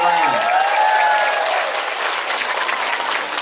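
Loud burst of crowd applause, dense clapping that carries on steadily for a few seconds before easing slightly.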